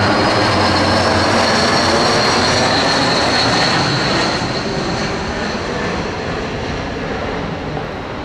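An Air Canada airliner from Montreal at Boston airport, its jet engines a loud, roaring wash with a high whine on top that eases slightly toward the end, close and unbroken by speech.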